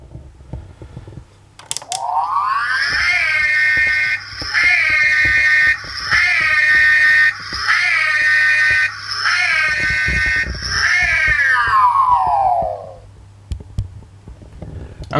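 A Playmobil Ghostbusters toy vehicle siren wails in a rising start, then repeated electronic whoops that fall away at the end, loud and close, with clicks around it.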